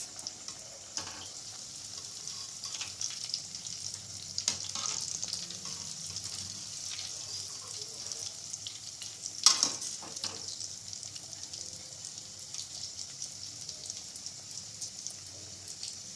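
Crispy Gujarati veg cutlets frying in a pan give off a steady, soft sizzle and crackle, with a brief louder clatter near the middle.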